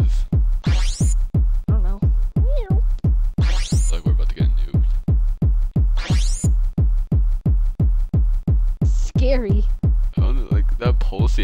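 Inside a Roblox game, a deep, steady heartbeat-like thump repeats about three times a second, loud and relentless, while higher swooping voice-like tones drift over it.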